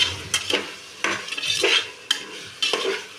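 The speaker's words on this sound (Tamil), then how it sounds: "நல்லா கிண்டணும், கிண்டாமல் விட்டுட்டோம்னா தீஞ்சு போயிடும்" Vegetables for veg biryani are stirred in a pan in four or five sharp, close scraping strokes over a faint sizzle.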